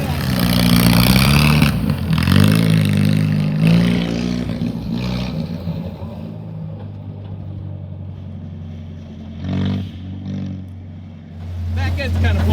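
A Willys Jeep CJ3B engine idling on old gas, a steady low rumble that dips and rises slightly, close by, with a brief revving swell near the end.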